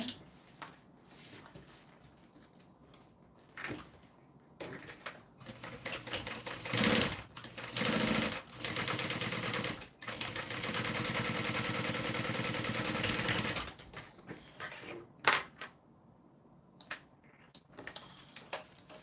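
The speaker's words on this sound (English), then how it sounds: "And then we're going to do the top stitch all along the top, right underneath that zipper." A sewing machine top stitching along a bag just under the zipper runs in steady rapid bursts, starting and stopping several times, then holds one long continuous run before slowing to a stop.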